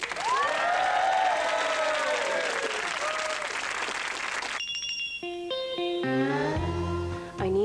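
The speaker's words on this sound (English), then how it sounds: "can we have a big round of applause for Doreen and Nelly?" Studio audience applause on a 1997 Channel 4 TV show, loud and continuous for about four seconds with distorted warbling electronic tones over it, then giving way to a stepped synthesized jingle of rising and falling notes.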